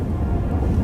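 Low, steady storm rumble with thunder rolling through a wind-like roar in the video game The Witcher 3, loud and continuous without a distinct crack.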